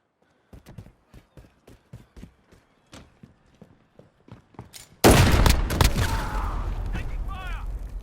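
Gunfire in Call of Duty Modern Warfare 2019 begins as a string of sharp, evenly spaced shots, then erupts into a loud, sustained roar of heavy firing and explosions, with a voice shouting during the opening stretch.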